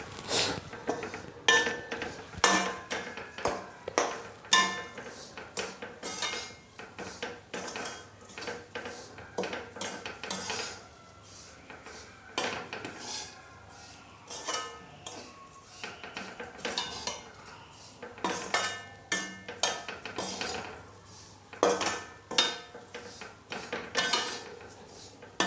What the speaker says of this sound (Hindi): तो मसाले को भून लेंगे पहले